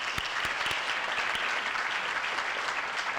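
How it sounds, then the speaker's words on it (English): A room at a Santa Ana city council meeting fills with steady applause for the Public Works Agency, even dense clapping from many hands with a few sharper nearby claps and no talk over it. "Let's give them a big round of applause."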